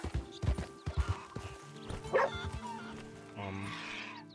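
A dog barking in the video game Red Dead Redemption 2, fairly faint, mixed with the rhythmic clopping of horse hooves and a brief vocal sound.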